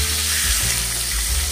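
Fish fries in a pan, a loud, dense, continuous sizzle close up with low bubbling underneath, steady throughout and without talk.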